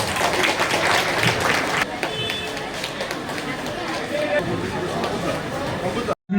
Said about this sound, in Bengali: সকলকে বলবো হাততালি দেওয়ার জন্য